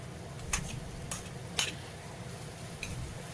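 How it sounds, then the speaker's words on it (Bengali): Mixed vegetables with capsicum frying in a pan over the flame, a soft continuous sizzle broken by a few sharp clinks and scrapes of a stirring utensil. "এবার এইভাবে 3 থেকে 4 মিনিটের জন্য সবজিগুলোকে ভাজবো"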